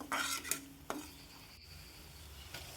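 A metal spoon scrapes and clinks against a pan as spiced vegetables are stirred and sautéed, with a couple of sharp knocks early on, then a soft, steady sizzle.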